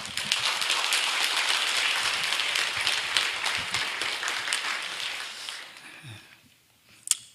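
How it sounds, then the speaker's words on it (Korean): Church congregation applauding to welcome a missionary speaker at an overseas mission Sunday service, steady dense clapping for about six seconds that fades out, with one sharp clap near the end. "나오실 때 박수로 환영해 주시길 바랍니다."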